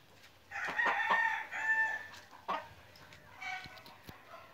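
A rooster crows close by, a loud drawn-out call, followed by some clucking and scattered farmyard noises. The bird is an imported fighting cock weighing 2.7 kg.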